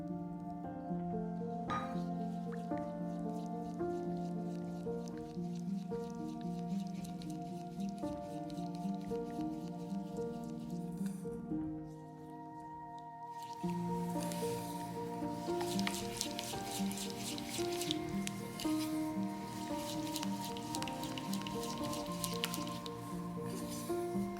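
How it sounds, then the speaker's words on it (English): Maple syrup is stirred into melted cocoa butter for raw vegan chocolate, making soft, sticky squishing and dripping sounds that run almost continuously, with a brief lull partway through, over steady tonal sounds in the background. "Add maple syrup and mix."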